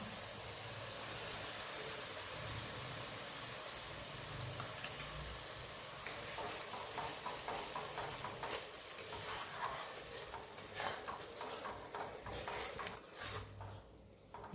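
A paste of ground mustard and poppy seed fries in a pan as a soft, continuous hiss, with quick light ticking scrapes from stirring growing busier toward the end; fairly quiet overall.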